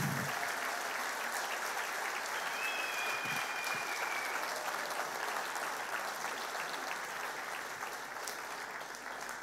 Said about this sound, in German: Der Beifall wird zum Orkan.